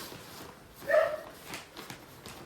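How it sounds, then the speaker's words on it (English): A dog indoors gives a short, thin whimper wanting to be let out, one brief high whine near the middle followed by a couple of softer, fainter sounds. "One of the dogs wanting to go out."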